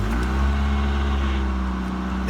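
A Toyota AE86 with an SR5 steering wheel runs close by in a steady, loud idle, its low engine rumble holding even and continuous without talk.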